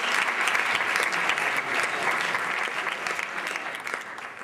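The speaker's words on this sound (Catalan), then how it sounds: "us automereixeu, un aplaudiment de tamany industrial per haver arribat fins aquí" An audience at a Catalan rumba symposium applauds steadily and densely, a full room of hands clapping at a constant loudness that eases slightly toward the end.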